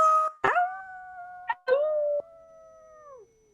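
A human voice imitates a wolf's agonized howl, breaking in with a few short yelps before drawing out into long, sliding, mournful tones that fade at the end, loud and up close rather than distant.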